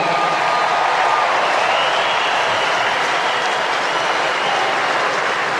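Large crowd applauding at a 2020 AFL Grand Final celebration between Richmond and Geelong, a loud, dense, unbroken roar of clapping and crowd noise that holds steady throughout.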